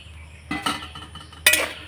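Two short clattering bursts of a utensil against a pan as puffed rice is stirred on a stove without sand, close by, with quiet pauses between.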